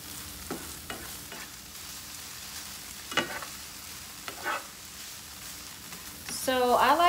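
Onions for a tofu scramble fry in a pan and are stirred. Scattered spoon scrapes cut through a soft, steady sizzle, and a voice briefly starts speaking near the end.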